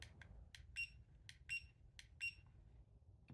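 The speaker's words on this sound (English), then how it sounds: "You can also turn off the self-leveling, which is that beeping sound." A self-leveling laser level beeps in short, high-pitched tones in a steady pattern, some single and some in quick pairs, fairly faint over a low background hum.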